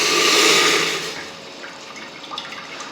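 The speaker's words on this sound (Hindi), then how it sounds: "सबसे पहले हम इसमें पानी डालेंगे 2 लीटर।" Water from a large plastic bottle pours into a cooking pot for semolina halwa, a steady rushing splash that is loudest at first and then trails into softer trickles and drips.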